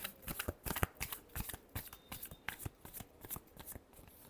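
A deck of tarot cards gets riffled and shuffled by hand in quick, soft, crackling bursts that repeat steadily, close and quiet with no talking.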